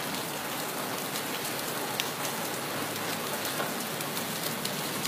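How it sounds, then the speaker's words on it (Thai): Steady rain falls and patters on surfaces, a dense, even hiss with faint scattered drops, continuous and moderately loud without any voices. "ก็รับรู้ได้ว่าฝนตก"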